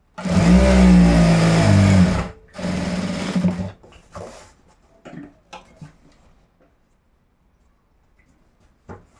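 An electric sewing machine stitching a folded two-inch hem on boys' school uniform shorts, a loud steady whirring run of about two seconds, then a shorter burst, followed by faint clicks and handling noises as it stops.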